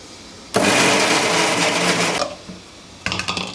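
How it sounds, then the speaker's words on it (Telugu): A mixer grinder blitzes gongura (sorrel) leaves for pulihora gongura pachadi with a loud, close whirring roar for about two seconds. It stops, then starts again as a short burst of pulses. "ఈ గోంగూర 2 వంతులు మిక్సీ వేసుకుంటున్నాను."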